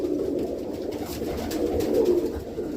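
Several pigeons coo softly and continuously in a low murmur, steady and close, with no talking.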